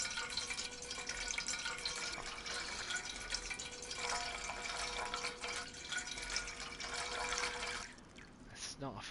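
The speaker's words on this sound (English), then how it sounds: "I'll fill up this pot." Water running into a cooking pot in the survival game DayZ, a faint steady trickling and splashing over several seconds, quiet in the background with a brief change near the end.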